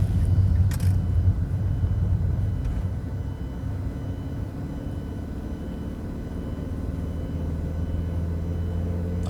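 A 2008 Fiat Punto engine pulls in third gear and is slow to gain speed. A steady low drone and road rumble hold at a fairly constant level throughout, with no voices.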